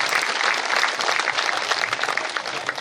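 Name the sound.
audience applause welcoming a guest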